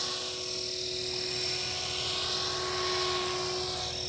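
A Blade Fusion 360 RC helicopter flies steadily, its rotor giving a continuous high whine and buzz with no voices.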